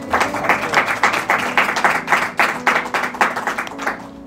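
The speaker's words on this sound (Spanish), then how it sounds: "Denle un fuerte aplauso a Dios." Church congregation clapping together, rhythmic claps in a steady beat with a held musical tone and some voices underneath.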